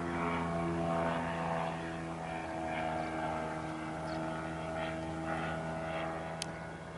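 A Chinook light aircraft flies downwind in the airfield circuit, its propeller engine a steady, even drone heard from inside the cabin, with no talk over it.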